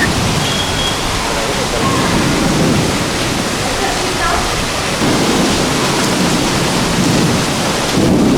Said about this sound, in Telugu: తెనాలిలో మంగళవారం పిడుగుల వర్షం కురిసింది